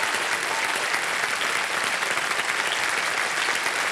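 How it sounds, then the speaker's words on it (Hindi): A studio audience at the KBC quiz show claps in a dense, even burst of applause throughout, loud and continuous with no voices over it. "एक बार तालियां बज जाए इनके लिए।"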